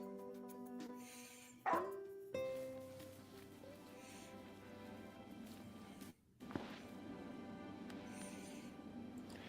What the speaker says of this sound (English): this is a dog that Noctis has been using to communicate with the princess